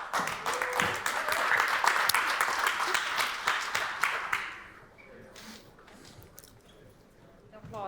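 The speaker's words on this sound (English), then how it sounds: "The applause was too early." Audience applause at a startup demo event in Estonia, a dense burst of clapping for several seconds that tapers off into quiet room noise with faint scattered claps.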